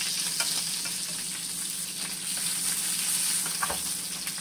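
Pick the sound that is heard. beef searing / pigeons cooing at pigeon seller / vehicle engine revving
beef searing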